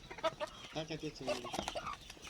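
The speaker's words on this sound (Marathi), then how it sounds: "कोंबडा छान आहे बघू कोण घेतला तर" Several short clucks from a multicoloured rooster among native hens, close and fairly clear, with a person speaking briefly over the birds.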